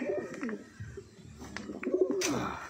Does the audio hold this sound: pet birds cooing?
yes